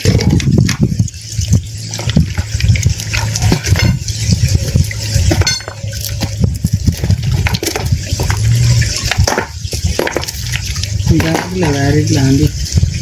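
Water runs steadily in a rocky stream during crab catching, a constant close gush and splash with a voice briefly heard near the end.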